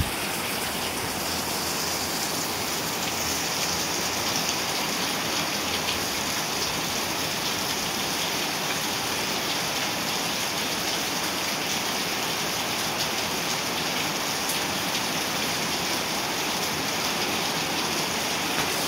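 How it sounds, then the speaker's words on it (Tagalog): Heavy monsoon rain pours down in a dense, continuous hiss, with gusty wind blending into the steady roar throughout, loud and unbroken. "Pero may pabugso-bugsong ulan pa rin. At hangin."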